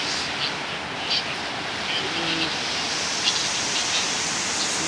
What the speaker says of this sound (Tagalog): Grabe, baha. Bahang baha. Baha na. Walang makadaan. Lakas yung agos.